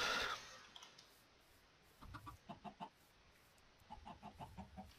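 Chickens in Minecraft cluck in short repeated bursts, fairly faint, with a brief noisy swell at the start and no talking.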